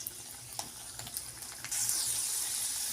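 Potato pieces fry in hot oil in a wok for an Assamese cauliflower-potato dish, giving a steady close sizzle with a few soft scrapes, and the hiss swells louder and brighter toward the end.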